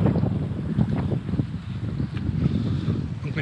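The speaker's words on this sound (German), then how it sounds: "Bisschen windig ist." Wind gusting steadily across a lake shore in winter before an ice swim in 1 °C water, a continuous low buffeting rumble on the microphone with no clear voices.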